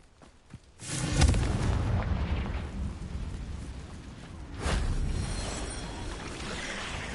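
Confringo and Bombarda spell explosions in Hogwarts Legacy land as two booming blasts a few seconds apart, each followed by a long rumbling roar.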